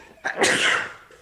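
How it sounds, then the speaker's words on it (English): A single sharp sneeze, close and loud, with a short intake of breath before the burst. "Made me sneeze."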